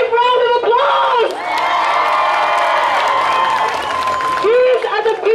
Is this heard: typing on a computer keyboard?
no